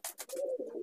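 An Andhra pigeon gives a short, close coo, a few quick breathy pulses running into a low, drawn-out throaty note, clear and alone.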